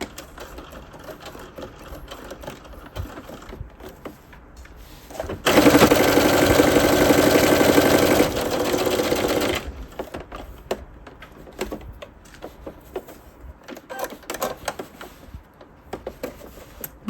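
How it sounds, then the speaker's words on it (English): A domestic sewing machine runs a single steady, loud stitching burst of about four seconds while sewing a top with a half-inch seam, set between quieter handling and rustling of fabric. "lift up your pressure foot and you're going to pivot, and a 1/2 inch from the edge you're going to stitch all the way around"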